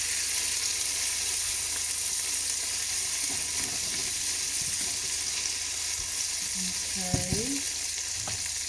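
Chickpeas fry with a tablespoon of chili sauce in a pan, giving a steady close sizzle with faint scraping. A short spoken word and a few light clinks come near the end.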